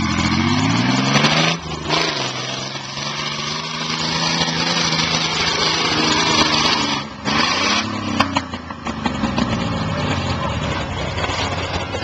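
Hill climb motorcycle engines rev and pass nearby, with high buzzing whines that rise and fall, brief gaps between runs and crowd-like background noise.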